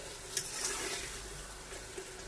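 Water is poured into a pan of frying masala with green chillies for aloo gobi, giving a faint, soft wash of splashing and sizzle with a couple of small clicks and no talk.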